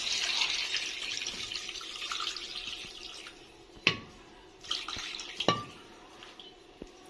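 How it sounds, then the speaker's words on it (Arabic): Water is poured from a tap-like stream into a pot over sautéed chicken, a close rushing splash for about three seconds, followed by a few drips and light metallic clinks. "هنحط بقى عليها الميه القعد بتاعها"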